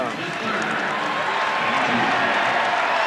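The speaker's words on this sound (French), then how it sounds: "Rodman très applaudi pour son abnégation" An arena crowd at a 1997–98 NBA game between Chicago and Seattle applauds Rodman, a loud sustained wash of clapping and cheering that swells slightly, with a commentator's voice running over it.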